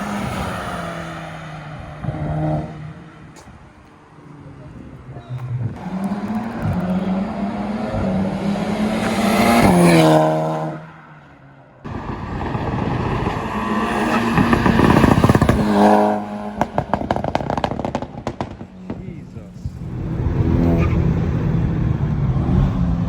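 A tuned 350 bhp VW Golf GTI drives past at speed, engine rising and falling through hard pulls with crackling overrun pops, loud and close with brief gaps between runs.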